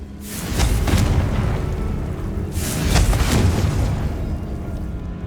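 Two deep, rumbling blasts from the Confringo spell in Hogwarts Legacy boom one after the other, each swelling and then slowly fading, loud and close with no talking.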